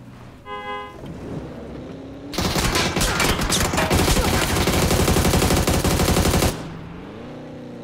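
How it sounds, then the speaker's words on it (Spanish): A dense burst of rapid automatic gunfire in the video game PUBG lasting about four seconds, loud and continuous, with quieter engine hum before and after. "Tiros."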